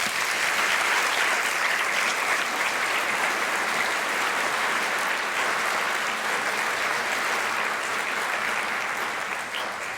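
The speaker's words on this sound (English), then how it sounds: "Another round of applause, please." A large audience at an international handbell symposium opening ceremony claps after a performance, a loud, sustained and dense wall of applause filling the whole stretch without a break.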